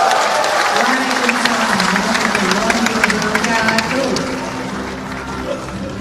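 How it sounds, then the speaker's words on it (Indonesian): Audience applause at a party anniversary gathering after a political speech, broad crowd clapping with voices over it, fading slightly toward the end. "berikan tepuk tangan yang meriah sekali lagi untuk Bapak Surya Paloh."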